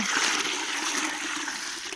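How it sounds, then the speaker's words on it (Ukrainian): Water pours and splashes steadily into a bucket of salt solution, about a tablespoon of salt topped up to ten liters, heard close and continuous for the whole moment. "Зараз тут я доливаю до 10 літр води."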